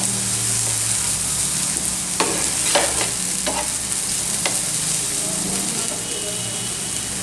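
A spice mixture of black pepper and cumin powder is stirred in a pan for a tawa fry, with a few distinct spatula scrapes and knocks over a continuous low sizzle and hum.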